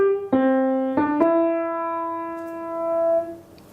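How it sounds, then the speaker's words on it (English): A piano plays a short Jingle Bells phrase of a few clear notes, and the last note is held long and fades out alone. "So if I play this phrase for you in its entirety, it sounds like this."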